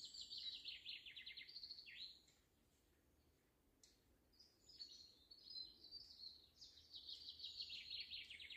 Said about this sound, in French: écoute juste les oiseaux